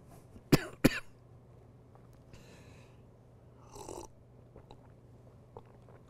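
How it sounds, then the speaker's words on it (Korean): A Buddhist monk giving a lecture coughs twice in quick succession, close and sharp, then follows with softer breathy throat and mouth sounds in a quiet room. "더 하려고 해도 기침이 나서 안 되거든요"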